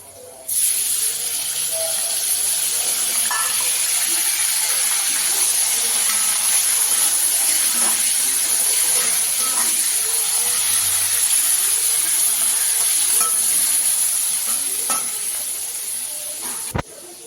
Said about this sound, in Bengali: আরেকটা চুলায় আমি নোনা ইলিশগুলোকে ভেজে নেব